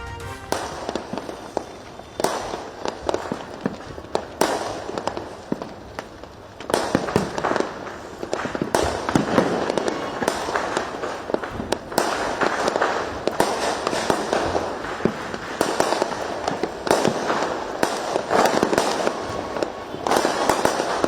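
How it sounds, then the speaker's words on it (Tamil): Diwali fireworks exploding continuously in the night sky, a dense barrage of loud booms and crackling bursts that grows heavier and more constant as it goes on. "இரவு நேரத்தில் வானத்தை வண்ணமயமாக்கிய வான வேடிக்கைகள்."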